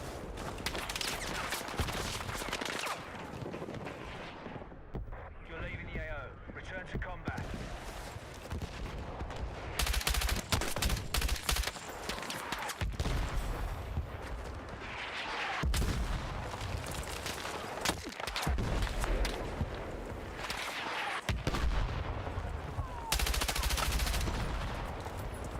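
Sustained bursts of light machine gun fire in the video game Battlefield 6, loud and dense, with rapid automatic volleys and scattered distant shots and booms running through the whole stretch.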